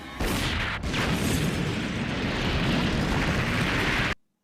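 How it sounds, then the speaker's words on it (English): Loud, sustained explosions from an anime battle scene roar as a dense rumbling blast for about four seconds, briefly dipping, then cutting off abruptly. "Those powerful ground tremors could only have been caused by explosions."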